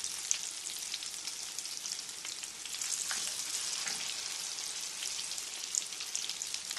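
Jiló and calabresa fritters fry in hot oil with a steady, bright crackling sizzle close by, dense and continuous with small pops scattered through it, and no voices.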